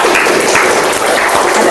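A classroom of students applauds at the end of a lesson, loud and dense clapping held steadily from start to finish with no voices over it.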